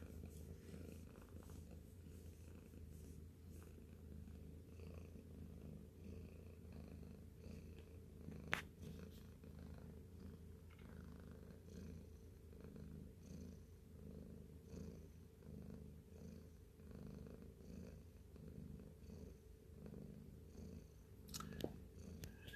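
Shelby, a pet female cat, purrs softly and steadily up close in a quiet room, with a couple of faint clicks breaking through the low rumble.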